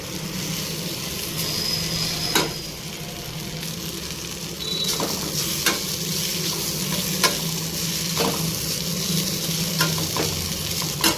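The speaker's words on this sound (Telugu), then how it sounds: "ఫ్రై చేసుకోవాలి అటుకులు" Flattened rice (poha) frying and being stirred in a pan for jaggery poha payasam, a steady close sizzle with periodic sharp scrapes of the spatula throughout, no speech.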